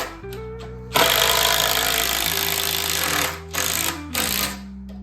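A power drill sinks screws into the wooden frame of a simple budget workbench, a loud steady whirring drone held for about two and a half seconds, then a few shorter bursts with brief pauses, close by and with no talking.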